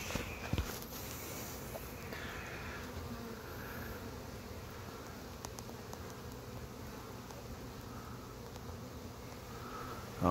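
Honeybees buzzing around an open beehive, a steady dense hum of many insects close by, continuous and fairly soft, with a few faint knocks and movements but no talking.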